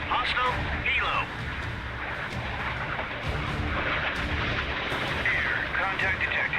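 Naval 5-inch guns fire flak rounds in the naval combat game Sea Power, a dense barrage of overlapping booms that keeps going the whole time under a constant roar, with a voice talking over it.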